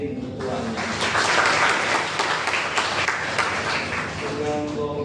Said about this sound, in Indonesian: Kita tepuk tangan untuk Kevin ketuanya.